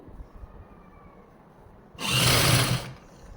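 A sewing machine stitches pleats into a salwar waistband in one short burst of fast whirring lasting under a second. Quiet room tone comes before and after it.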